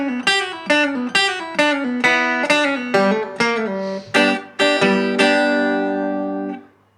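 Electric guitar playing a rockabilly lead: a quick run of bright plucked notes with hammer-ons and pull-offs, ending on a sustained chord that rings out and fades, played alone.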